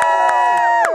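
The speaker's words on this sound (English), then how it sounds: "so you better cheer loud" Crowd at a pirate faire stage show cheers and shouts loudly in short bursts, with children's voices and tonal yells layered close together.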